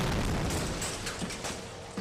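An explosion tears through a street in Mogadishu, a dense, loud roar of broadband blast noise with rumbling debris that carries on throughout, with no voices.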